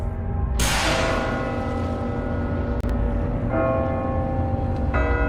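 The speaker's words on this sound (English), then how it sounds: "You know, when the bell rings, it's time." A church bell tolls in a video game trailer, loud and resonant, with a strong first strike ringing out and decaying, then further strikes roughly every couple of seconds.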